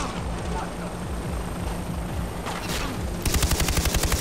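Rapid automatic gunfire from a newly picked-up weapon in Far Cry 3 rattles over a droning vehicle or helicopter hum, ending in a loud, evenly spaced burst of shots as a voice talks.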